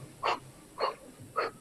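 Deep rhythmic breaths during a Kundaluna yoga breathing exercise at a Costa Rica resort, three short strong inhale-exhale bursts at a steady quick pace, close and fairly soft, with no talking.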